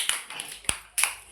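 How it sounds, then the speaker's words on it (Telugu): Preschool children at an Anganwadi centre, playing an inside-outside circle game, give a few scattered, faint claps, with sharp isolated hits over a quiet room. "క్లాప్స్ కొట్టండి."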